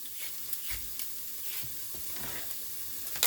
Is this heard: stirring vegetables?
yes